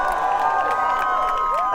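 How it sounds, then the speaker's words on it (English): A crowd at a jousting tournament at Leeds Castle in Kent cheers and shouts loudly and steadily, with high children's whoops rising above the continuous roar. "Let's have a cheer for Alex."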